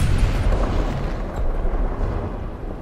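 High-explosive round from a Sturmpanzer (Brummbär) in War Thunder, fired at long range at night: a dull, muffled boom rolling into a low rumble that fades over a few seconds, with no talk.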